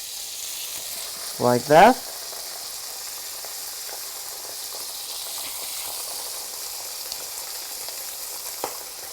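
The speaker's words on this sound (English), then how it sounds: "So we just fry it in the butter," Herring sizzles in butter in a pan, a steady soft hiss that runs the whole time, with a short burst of speech near the start.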